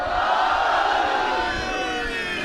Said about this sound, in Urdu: بلند آواز میں نعرہ لگائے گا، نعرہ حیدری